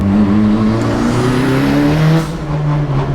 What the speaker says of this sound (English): Turbo definitely comes on early.